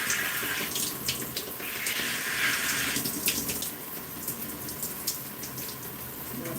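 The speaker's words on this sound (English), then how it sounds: "I want to add some water to this section" Water splashes and trickles steadily onto a section of hair during styling, a soft, continuous wet hiss with small spritzing bursts and no talking.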